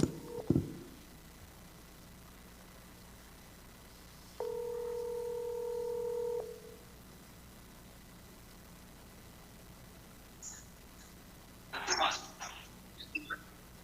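A telephone call is placed from a live crime-watch broadcast: a few sharp noises open, a steady two-tone dialing or ringback tone holds for about two seconds, then after a quiet hiss a short burst of clicks and tone bursts follows.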